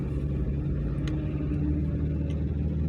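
A car drives along a bypass road in Yakutsk, a steady low engine and road rumble filling the cabin continuously, with a few faint clicks on top.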